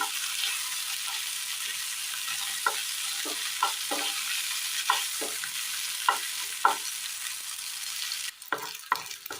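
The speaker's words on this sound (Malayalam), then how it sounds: "തക്കാളി അങ്ങനെ നല്ലതുപോലെ വഴന്ന് വന്നിട്ടുണ്ട്." Tomatoes sauté in a pan for a Kerala-style curry, with a soft, continuous sizzle under a series of sharp scrapes and knocks from stirring, spaced irregularly and growing busier toward the end.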